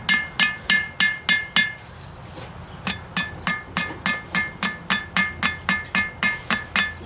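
Hammer blows shaping the tip of a hot steel carving knife on an anvil: a rapid, even series of sharp ringing strikes, a brief pause, then a longer steady run of close, loud clanks.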